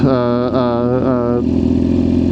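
A sport bike's exhaust revving close by, a steady harmonic drone that rises and falls in pitch a few times and then settles into a rough, throbbing idle.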